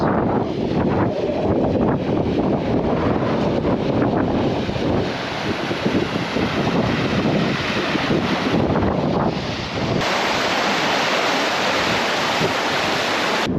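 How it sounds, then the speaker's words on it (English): Strong wind blowing outdoors along the River Douglas, a loud continuous roar with heavy microphone buffeting that surges and eases throughout, with no voices. "That's wind."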